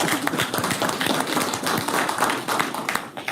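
Audience at a city council meeting claps steadily for a young student being recognized, a dense, even patter of many hands filling the room for a few seconds.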